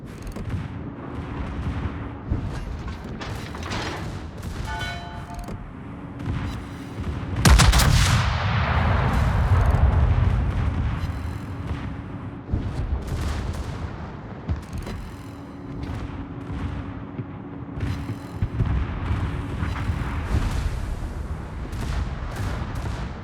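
Naval guns and artillery boom in World of Warships during a battle defending Naval Station Newport with the battleship Ohio, with a heavy blast near the middle and repeated rumbling shots over steady engine and sea noise.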